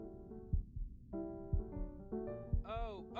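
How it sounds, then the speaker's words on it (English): Steady low heartbeat thumps from Before Your Eyes, paired beats pulsing at an even rhythm beneath sustained soft musical tones and a brief swooping high sound near the end. "I can hear his heartbeat."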